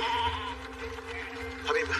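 Sheep bleating in an action film scene, a drawn-out wavering bleat running through the clip with a second rise near the end, under background voices.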